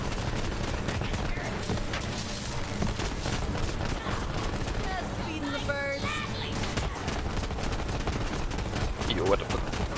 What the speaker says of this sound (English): And it's one powerful gun.